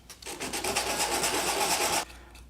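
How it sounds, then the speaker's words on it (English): A 3D-printed motor mount part for a DIY dog ball launcher is sanded with 240 grit sandpaper in quick, even back-and-forth rasping strokes, close up and continuous for about two seconds, then stopping. "But first we need to sand this a little bit so it's smoother. I have 240 grit sandpaper."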